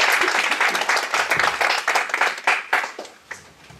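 An audience at a developer open-house event claps in a lively round, individual hand claps standing out as the applause gradually tapers off.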